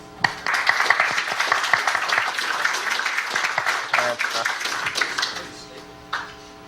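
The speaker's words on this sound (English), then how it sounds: "big round of applause for Trevor" At the Amiwest 2014 computer show, an audience applauds a presenter with a fairly close, moderately sized round of clapping, individual claps audible within the wash, dropping off near the end.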